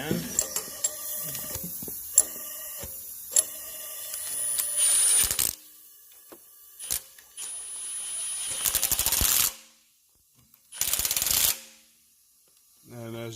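Tightening a gasket and block-off plate on the exhaust of a 5.9 Cummins engine, with repeated metallic ratchet clicks and clinks, then loud bursts of rushing air leakage in a quiet shop.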